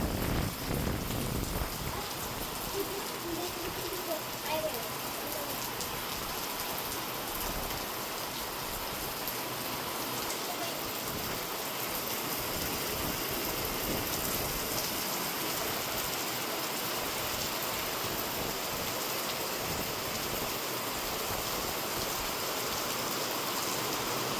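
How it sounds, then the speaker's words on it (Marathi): Heavy rain pours down steadily, a dense, loud hiss of drops drumming on surfaces with no voices, continuing unbroken throughout. "इतका जोरदार पाऊस चालू झाला"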